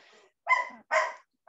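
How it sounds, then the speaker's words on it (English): A dog barks three times in quick succession close by, sharp clear barks separated by brief pauses, with no talk over them. "I'm sorry about the dog."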